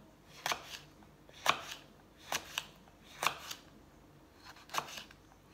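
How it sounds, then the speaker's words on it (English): A knife slices through peppers on a cutting board in a series of sharp, crisp cuts at irregular intervals, close and fairly quiet, with no talking. "I'm going to chop some peppers different ways. So I'm going to slice them this way"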